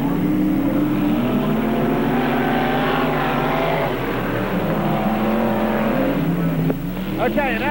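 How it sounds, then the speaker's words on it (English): UMP Modified race cars roar around the dirt track at Beckley Motor Speedway in 1993. Engines drone and rise and fall in pitch continuously, fairly loud, with a voice talking over the racing. "Well, Dale Lyon has his car back up and running"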